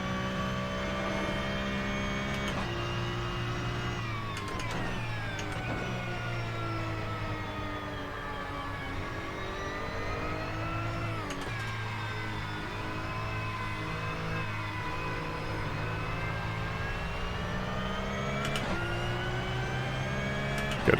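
Porsche Cup race car engine in a sim racing game, a continuous high revving drone that climbs and drops with each gear change and corner across the lap.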